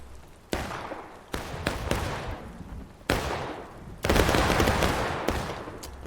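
Musket volleys in a large 200-player video game battle: repeated crashing bursts of massed gunfire, several overlapping salvos with echoing tails, loud and close, one heavy sustained barrage near the end.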